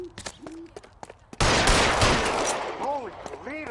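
A sudden burst of loud gunfire in the L.A. Noire video game, a sustained rattling volley after a few sharp clicks and knocks, with ricochet-like whines trailing off at the end.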